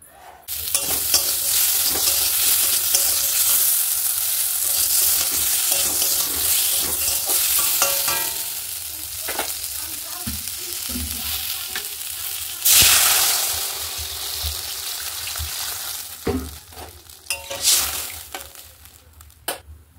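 Papaya, potato and fish fry with black cumin seeds in a pan, a loud, close, continuous sizzle broken by stirring scrapes and a few clinks of a utensil against the pan.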